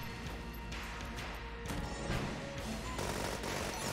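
Rapid-fire gunfire in the game Enter the Gungeon, a dense, unbroken clatter of shots and impacts that grows louder partway through, with no voices over it.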